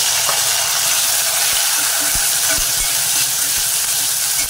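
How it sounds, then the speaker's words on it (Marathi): Tomatoes sizzle loudly in hot oil tempering for Malvani-style tomato saar, a steady close frying hiss with a few soft stirring knocks and no talk. "फोडणी लाल झाली की त्यामध्ये टाकायचे टोमॅटो"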